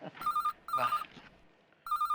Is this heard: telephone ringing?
yes